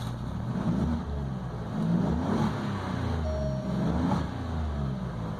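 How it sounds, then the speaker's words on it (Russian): An Alfa Romeo Giulia Quadrifoglio idles with a deep, rumbling engine tone, then swells in a couple of moderate blips of throttle before settling again, close and continuous with no talk. "Так, сейчас давайте попробуем погазовать немножко."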